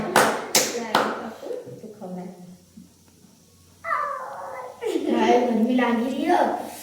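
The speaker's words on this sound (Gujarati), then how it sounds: "ચલો તાળી વગાડો." Hands clap at a family child's birthday cake-cutting just after the birthday song: three or four loud, close claps open the moment, then voices and playful squeals take over.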